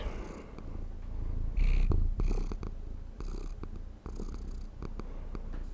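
A cat in Hogwarts Legacy purrs with a low, rumbling, steady rhythm close up. Brief clicks and chirpy game sounds are scattered over the purring.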